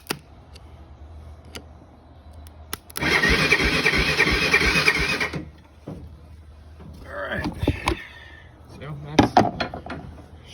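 A rusty, neglected Honda 300 Fourtrax ATV engine cranks over for a couple of seconds with a steady whirring churn, framed by clicks, rustling and short bursts of nearby talk.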